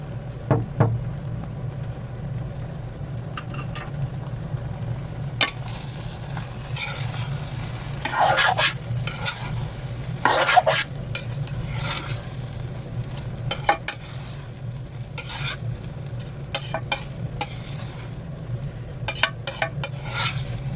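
Boiled rice stir-fried in a pan for Chinese fried rice, with a steady low sizzle broken by repeated scraping and clinking strokes of a spatula against the pan. There is no talking.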